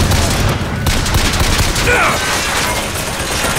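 Gunfire aimed at the player in Bioshock Infinite on hard difficulty, a loud dense barrage of rapid shots and impacts throughout, with a voice speaking over it.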